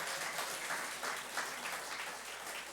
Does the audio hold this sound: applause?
yes